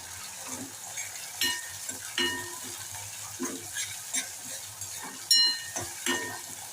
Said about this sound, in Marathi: बारीक चिरलेला टोमॅटो तो सुद्धा छान परतून घेऊया